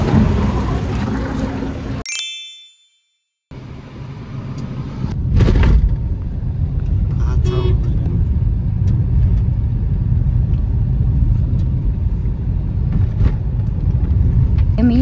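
A parked car's engine rumbles steadily at the edge of an Adivasi village near the Maharashtra–Gujarat border, low and continuous, with a brief dropout early on before the drone resumes and continues under the ambient noise.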